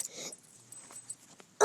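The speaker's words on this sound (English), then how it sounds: "Oh, you cute puppy." A puppy whimpers and whines in soft, thin bursts, close and fairly quiet, with short pauses and a louder yelp-like cry at the end.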